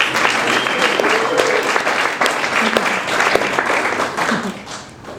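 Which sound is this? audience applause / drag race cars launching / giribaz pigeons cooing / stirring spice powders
audience applause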